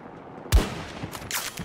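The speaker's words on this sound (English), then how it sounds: "600 meters parachute shot." A single long-range sniper rifle shot fired in Battlefield 2042 during a parachute jump at about 600 meters, one sharp loud crack with a brief echoing tail, followed by faint scattered distant rumbles.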